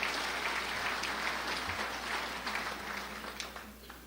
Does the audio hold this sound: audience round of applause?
yes